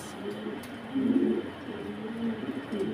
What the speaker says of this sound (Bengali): দেখেন পুরো বিডিং মুডে আছে কবুতরটা